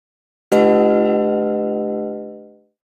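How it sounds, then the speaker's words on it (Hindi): A single strike of a temple bell at a Ram temple entrance rings out loud and clear, its rich metallic tone sustaining and slowly fading over about two seconds with no voices. "और घंटा बजाइए।"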